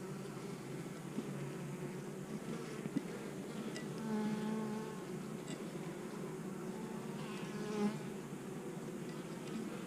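Steady, dense buzzing of many freshly hatched honeybees with their queen close by, a continuous insect drone with occasional louder wingbeats passing near.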